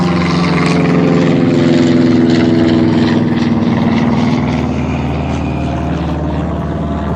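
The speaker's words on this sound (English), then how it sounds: "So, what do you think of this airplane?" A steady propeller airplane drones loudly and continuously, its engine hum holding close and even throughout.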